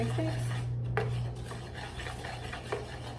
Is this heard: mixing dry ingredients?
yes